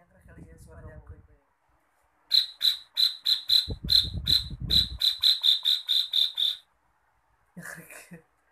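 A human voice imitates the call of an emprit bird. It gives a fast run of sharp, high, evenly spaced chirps, loud and close, with breathy sounds and other short vocal noises before and after.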